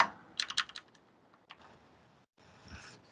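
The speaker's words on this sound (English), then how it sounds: "I'm not doing a good job typing out my JavaScript" JavaScript code being typed on a computer keyboard: a quick cluster of crisp key clicks, then a few scattered taps and a final soft burst, close and fairly clear with no talking.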